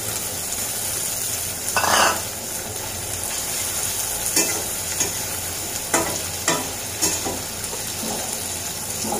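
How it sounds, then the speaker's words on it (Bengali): Dried shutki fish frying in a pan with a steady low sizzle, broken by a few scraping stirs of a spoon against the metal; no voices. "এখন কিন্তু আমি এই শুটকিটা এটার সাথে ভেজে নিব।"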